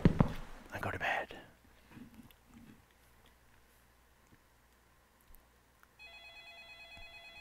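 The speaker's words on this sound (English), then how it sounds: "this phone's supposed to ring" A telephone ringing in a dark house at night, its electronic ring pulsing in steady bursts over a faint background after some quieter shuffling and movement.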